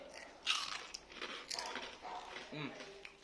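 Crisp bites into fried vadas made from leftover rice give a few sharp crunches, followed by softer chewing, with faint vocal sounds in the background.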